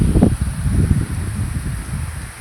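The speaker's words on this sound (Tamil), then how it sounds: "சரியான மழை" Heavy rain with wind during a rainy-day downpour, a steady rustling wash dominated by low rumbling gusts, fairly loud and continuous with no voices.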